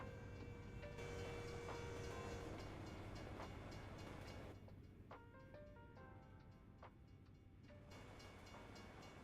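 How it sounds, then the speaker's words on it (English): A passing train in the trucking game American Truck Simulator rolls by with a steady low rumble and a sustained tonal drone, quiet and somewhat distant, with faint clicks over the continuous noise. "I hear trains somewhere."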